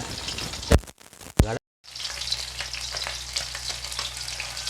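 Fish, pomfret or similar, fries in a pan, giving a dense crackling sizzle that follows a few sharp knocks and a brief silence and then carries on steadily, with no talking.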